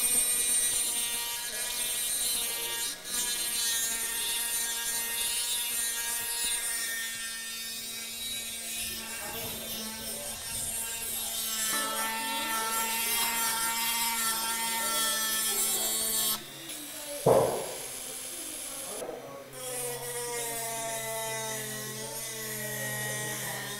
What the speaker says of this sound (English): I'm actually pushing quite hard with this Dremel.